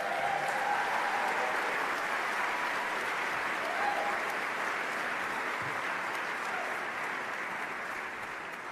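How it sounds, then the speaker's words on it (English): An indie game awards audience in a large hall claps in sustained, even applause that carries on without a break and fades slightly toward the end. "I think that deserves another round of applause."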